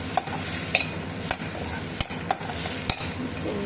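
Chopped onions, green chillies and curry leaves sauté in a pan for egg rice. A spoon stirs and scrapes in repeated sharp knocks against the pan over a steady close sizzle, with no talk.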